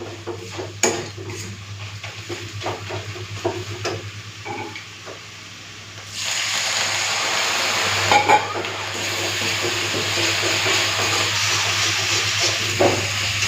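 Water poured onto spices frying for a mutton curry, a soft clinking of utensils against the pot and then a sudden loud burst of sizzling and hissing that carries on steadily, close up.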